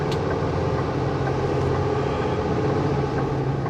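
A heavily loaded transport truck climbs the Rogers Pass highway, its engine giving off a loud, steady low rumble mixed with road noise, heard close with no talk.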